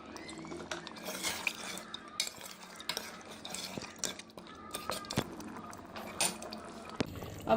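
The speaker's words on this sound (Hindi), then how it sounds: "अब हम इसकी भुनाई करने लगे हैं।" Goat trotters stir-fried in oil in a cooking pot, with irregular scraping and clinking strokes of a spoon against metal over a low sizzle, close and uneven in rhythm, without speech.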